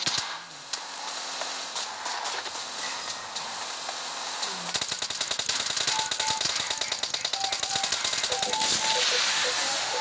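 Rapid bursts of automatic gunfire crackle in PUBG Lite gameplay, starting sparse and then turning into dense, fast repeated shots against a busy game soundscape.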